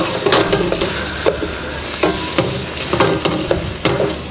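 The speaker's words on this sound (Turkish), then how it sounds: "Havucu da biraz tavada kavurduktan sonra en son aşama geldiğinde etimizi ilave edeceğiz." Carrots for Turkmen pilaf stir-fry in a hot pan, a loud steady sizzle broken by regular scraping strokes of a utensil roughly every half second, close up.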